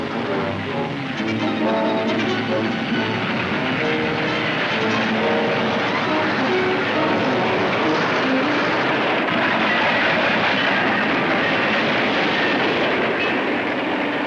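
A train runs steadily over a trestle in a 1943 serial scene, a loud continuous rumble and clatter of wheels on the tracks that stays close throughout with no pause.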